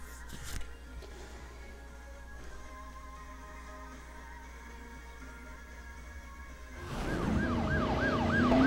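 An ambulance siren in the driving video game Driver San Francisco starts up near the end, wailing loudly after a stretch of quieter engine and road noise.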